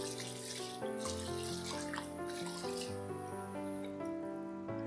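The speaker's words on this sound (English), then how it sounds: "Give it a good rinse" Tap water runs steadily into a sink as frozen meat is rinsed, a continuous soft splashing heard under background music.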